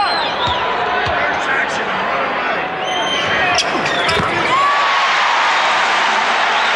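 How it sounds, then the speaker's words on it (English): A basketball arena crowd cheers and roars throughout a 1990 NBA Finals game between the Bulls and the Lakers. Loud, dense hubbub with whistles and squeaks mixes with a commentator's voice, and the noise swells further in the later seconds. "And again, the crowd getting into it."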